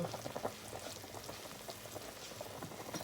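A pot of broth with shallots and galangal at a steady boil for beef noodle soup, a soft continuous bubbling and popping that stays quiet and even throughout, with no voices.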